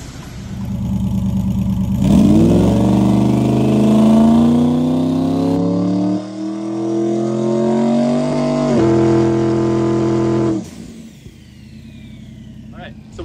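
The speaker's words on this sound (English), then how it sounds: "We're gonna run the car harder today to see how it does." Turbocharged race car at Bradenton Motorsports Park, its engine revving hard and loud with rising pitch sweeps that swell, dip and climb again before cutting off, followed by a lighter, fainter idle.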